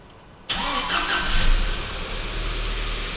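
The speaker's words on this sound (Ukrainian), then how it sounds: "Почуємо, як він крутить." A Volkswagen Passat B5's starter motor cranks the engine, a sudden loud whirring grind that continues steadily, nearby and without speech.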